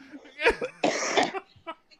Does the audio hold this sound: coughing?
yes